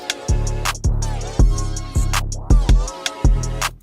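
Punchy hip hop beat with a boosted, heavy, booming kick hitting on a steady groove, bright hats and melodic samples layered above.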